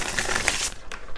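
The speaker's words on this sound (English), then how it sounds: "I'm going to put those back because I'm going to shuffle." Tarot cards are shuffled close up in a brief run of soft, papery riffling clicks and rustles, with no talking.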